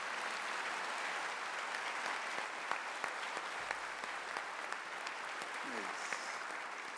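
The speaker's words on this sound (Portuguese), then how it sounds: "Aplaudamos o nosso alimento." A church congregation applauds steadily and continuously throughout, a dense crowd of clapping hands with no break, while a voice speaks faintly underneath.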